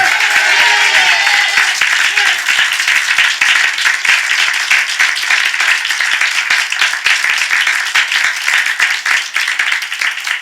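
A church congregation at a Sunday morning worship service claps together, loud, crisp and sustained, individual claps distinct within the steady ovation.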